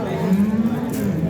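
A Kyrgyz cow at a cattle market gives a single low, drawn-out moo, close and loud, with market chatter faintly behind it.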